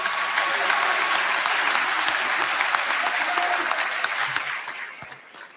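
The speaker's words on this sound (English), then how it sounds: "let's give our presentees a big round of applause" An audience at a school presentation ball gives the presentees a big round of applause, a steady wash of many hands clapping that carries on evenly and tapers off in the final moments.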